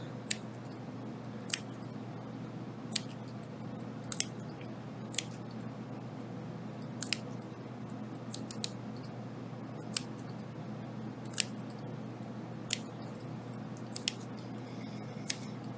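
Repeated sharp snips of scissors cutting while finishing a small needlepoint pillow, a dozen or so at irregular intervals, over a steady low background hum.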